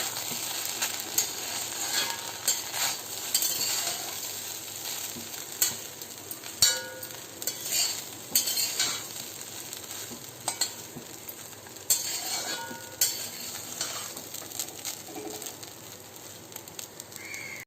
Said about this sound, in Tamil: சாதம் உடையாமல் பாஸ்மதி ரைஸ் உடையாமல் பொறுமையாக நம்ம கிளறி விட்டுக்கலாங்க